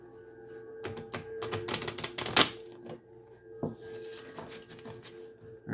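Quick, papery riffling and clicking of cards being shuffled, with a dense burst in the middle and softer handling either side, close and fairly quiet.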